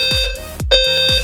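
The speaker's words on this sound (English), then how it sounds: "It's a fire alarm." Loud, insistent alarm sounding in repeated tones with sharp low thumps, a fire alarm going off indoors; continuous and close, with no talking.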